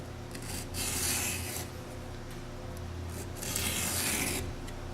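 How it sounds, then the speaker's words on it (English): A hand file sharpens a chainsaw chain tooth by tooth, with a guide locked in place and shavings coming off. Two clear raspy strokes stand out over steady background noise. "you can see those shavings coming off the top as the file moves across"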